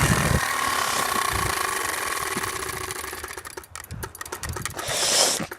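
A dirt bike's engine cranks and catches, with sharp, uneven bursts of firing breaking out of a steady mechanical whir before it settles into a loud, close rumble.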